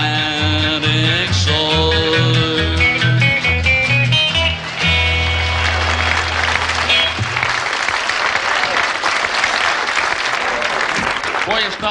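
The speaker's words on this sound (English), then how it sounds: "Before you stop clapping" Crowd clapping breaks out at a live country show at the Horseshoe Tavern as a sung folk tune about the Atlantic shore winds down, loud continuous applause rising over the last sustained notes and carrying on after the music ends.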